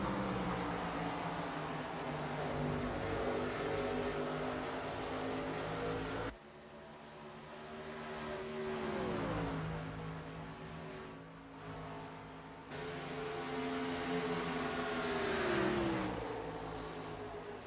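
Race truck engines in the iRacing Truck Series sim race, a steady, fairly quiet drone of several trucks with revs rising and falling as they go through corners and pass, no voices.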